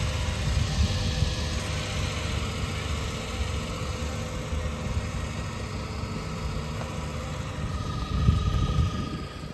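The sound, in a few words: engine running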